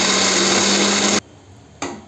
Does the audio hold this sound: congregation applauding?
no